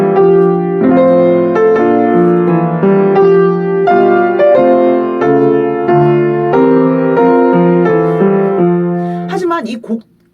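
Solo piano playing a Schumann piece plainly as written, steady sustained chords and melody ringing close and clear for about ten seconds before a brief rustle at the end.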